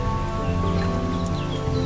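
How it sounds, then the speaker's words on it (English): Steady rain pours down on a coast, a dense hiss of drops with faint patters on top, continuous and fairly loud. "It started to rain after this scene."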